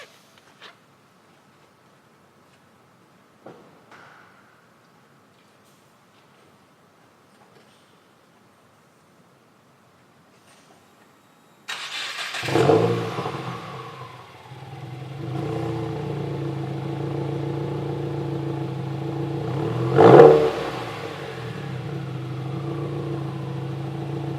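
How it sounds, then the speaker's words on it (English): A Subaru WRX fitted with a new exhaust fires up on a cold start after a few faint clicks, settling into a steady, deep idle with a sharp rev blip partway through, loud and close. "First cold start with the new exhaust."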